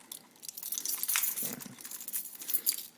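Car keys on a ring jangle and clink together in a hand, a close, quiet metallic rattle lasting a few seconds in a still room.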